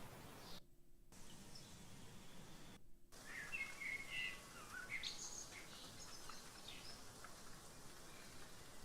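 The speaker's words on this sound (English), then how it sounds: "Birds." Bird chirps and tweets from a music production sample sit faintly over a soft rain-like hiss, with brief gaps where the sound cuts out before the high calls return.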